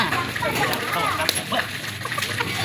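Water splashes and sloshes in a basin at home, a brief burst of wet splattering close by while people talk over it.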